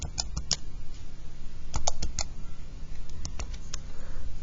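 Function keyed into a calculator: quick clusters of small plastic button clicks close by, a rapid burst at the start, another around the middle and a few scattered taps toward the end, with no talk.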